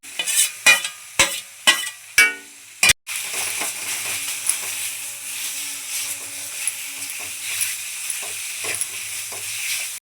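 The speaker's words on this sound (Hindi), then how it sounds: "जो हमने हरा मटर पीस के रखा है ये भी डाल देते हैं, इसको भी साथ में भूनेंगे।" Ground green peas and gram flour roast in a pan, a few sharp scraping knocks of a spatula at first, then a steady close sizzle with faint scraping taps throughout.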